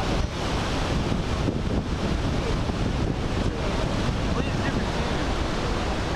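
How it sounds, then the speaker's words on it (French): Iguaçu waterfalls in strong flood flow, a dense, loud and unbroken roar of falling water with wind buffeting the microphone, no voices. "Le débit est tellement fort que l'on a l'impression que le nombre de chutes a augmenté."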